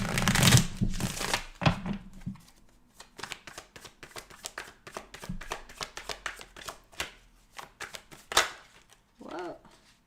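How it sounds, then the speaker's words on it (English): A deck of tarot cards being shuffled by hand in quick riffling bursts and soft slaps, close and fairly quiet, with brief pauses between handfuls. "let's just shuffle these up so we can clarify the cards here for my earth signs"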